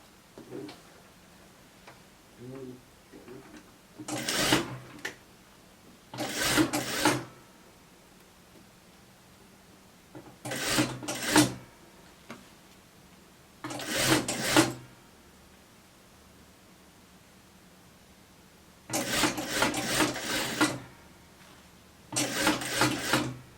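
A sewing machine stitches the back neckline of a fleece sweatshirt in six short, close bursts of rapid mechanical chatter, separated by quiet pauses, with no talking.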